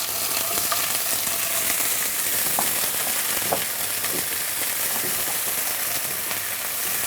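Onion paste sizzling and frying steadily in a hot pan for home cooking, a dense continuous crackle with faint scattered pops, close and fairly loud throughout, no voices.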